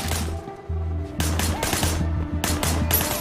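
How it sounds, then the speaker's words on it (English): Rapid bursts of gunfire ring out in the Sleeping Dogs video game, sharp repeated shots in clusters over a steady low in-game hum, loud and close. "Shooting at the guys over there."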